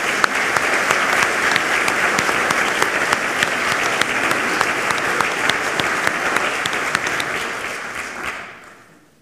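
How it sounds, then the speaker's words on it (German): Audience at a university academic ceremony gives sustained, even applause in a hall, dense clapping that fades out at the end. "ich bitte auch Sie um einen kleinen Applaus für die Kollegin in absentia"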